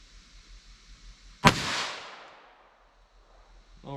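A single sharp, loud .22 Long Rifle Stinger shot from a Taurus pistol with a 4.1-inch barrel cracks out of near silence, then trails off in a fading echo over about a second.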